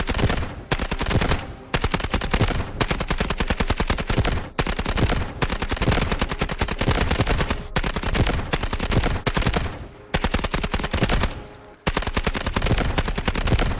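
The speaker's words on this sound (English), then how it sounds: "Our next weapon of choice is the SMG 45" Sustained bursts of rapid automatic fire from the SMG 45 submachine gun in the video game Delta Force, loud and close, with long rattling strings broken by brief pauses and no talking.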